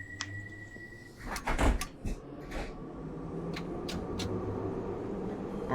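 Subway train doors on 1972 Tube Stock on the Bakerloo Line in Train Sim World 4 slide shut with a cluster of thuds and clunks, followed by a few short knocks over a low steady cab hum.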